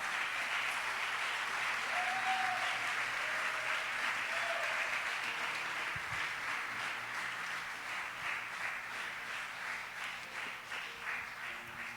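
A church congregation claps together in sustained applause that fades a little toward the end.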